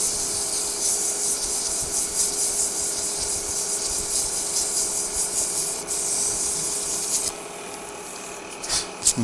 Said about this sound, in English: I can take my one piece like this, my little 400, and just lightly sand this